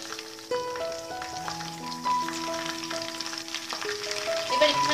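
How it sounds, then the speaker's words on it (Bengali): Whole cumin seeds crackle in hot oil just used for frying prawns, a loud dense sizzle with rapid popping and overlapping tonal ringing, continuous throughout. "গোটা জিরে ফোড়ন দিচ্ছি।"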